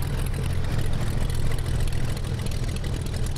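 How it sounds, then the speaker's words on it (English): A steady, loud Cessna 185 bush plane engine in the X-Plane 10 flight simulator drones with a deep low rumble, unchanging throughout the short stretch, with no voices over it. "Listen to that engine."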